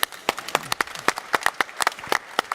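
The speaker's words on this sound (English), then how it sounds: "we're going to applaud ourselves, welcome our speakers, and also Raimund." A conference audience claps for the speakers, a burst of sharp, irregular handclaps from a small crowd, close and fairly steady through the short stretch.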